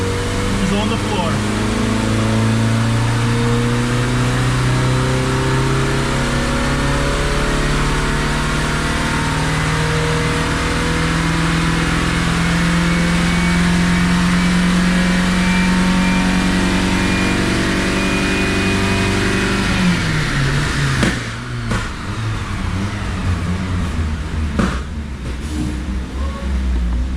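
A 1986 Plymouth Voyager with a 2.2 liter engine held at full throttle in fourth gear on a dyno, a loud continuous engine roar climbing steadily in pitch for about twenty seconds before abruptly dropping off into rumbling and clunks.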